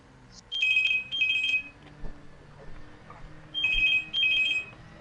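A telephone rings in two double bursts, each a bright trilling electronic bell pattern, separated by a quiet gap with faint background murmur.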